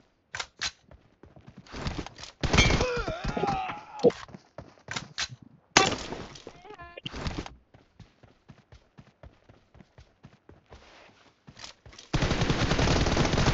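Single-fire M416 rifle shots in a video game: sharp, irregular cracks and bursts, some loud and close, with a few clattering impacts and a steady dense blast near the end.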